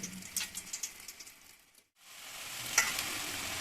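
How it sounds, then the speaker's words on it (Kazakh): Pastry pieces fry in hot oil with a steady crackling sizzle, faint and continuous, briefly interrupted by a quiet gap and a stirring clatter. "Майда қуырылып жатқан бөліктерімізді қызарып, таза піскенше майда ұстаймыз"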